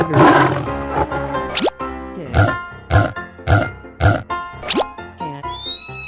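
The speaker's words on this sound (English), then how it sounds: "Tiger." A cartoon tiger gives a series of short, punchy roars and growls in quick rhythmic bursts, mixed with whooshing and squeaky cartoon effects, loud and close.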